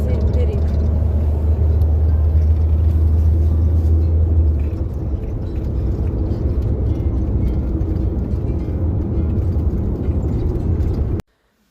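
A car on the way to a veterinary hospital gives a steady low engine rumble and road drone throughout, fairly loud and continuous, with a heavier hum early on before it settles and then cuts off abruptly.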